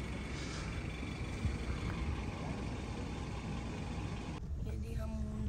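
A vehicle's engine and tyres rumble steadily and close by on a mountain road at night, on the journey from Skardu to Naran, with the noise staying loud and continuous throughout.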